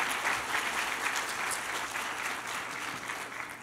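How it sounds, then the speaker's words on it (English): Forum audience at the 2014 Jeju Forum gives a speaker a round of applause, a full, even patter of many hands clapping that continues throughout and eases slightly near the end, no voices over it. "please give her another round of applause"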